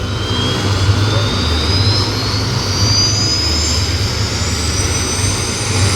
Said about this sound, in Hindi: तो दोस्तों अभी उड़ेगा हेलीकॉप्टर।